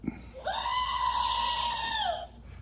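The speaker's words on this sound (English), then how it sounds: "It's an emergency goat." A novelty emergency goat toy lets out one long, strained bleating scream, loud and steady for nearly two seconds before tailing off, heard alone after a brief click.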